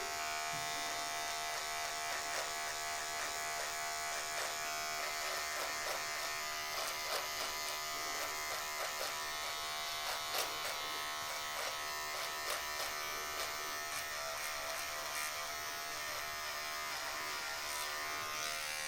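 A vintage T9 electric hair and beard trimmer buzzes steadily while shaving a moustache, a close, continuous high-pitched whine with small rhythmic fluctuations as the blade passes over hair, with no talking.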